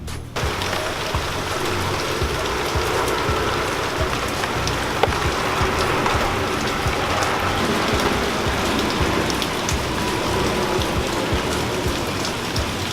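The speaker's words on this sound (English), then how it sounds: "It rains all the time." Steady rain pours down outdoors in New Jersey, a constant dense hiss of drops hitting surfaces from start to finish with no voices.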